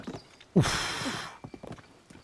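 A horse's hooves clip-clop in Zelda: Tears of the Kingdom, a short burst of galloping steps that fades quickly into quieter footfalls, with no talking.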